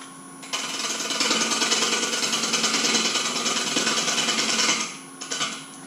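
A gouge cuts wood on a lathe while a natural edge bowl is turned, a loud, continuous rattling chatter for several seconds that starts and stops abruptly.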